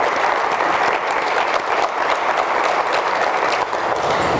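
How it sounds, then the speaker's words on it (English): An audience at a policy summit luncheon applauds in a sustained, dense burst of clapping that stays loud and even for several seconds with no talk over it. "So let's give Brian a round of applause."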